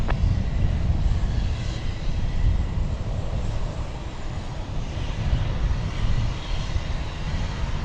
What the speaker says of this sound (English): There goes Sun Country Flight 503. It's going to be jetting its way